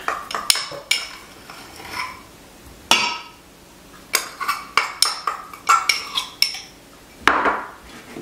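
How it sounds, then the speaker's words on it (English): A thick loofah paste is stirred into melted soap, with sharp clinks and scrapes of a utensil against the container in irregular bursts, close and fairly loud, separated by quiet gaps. "I'm going to stir that in."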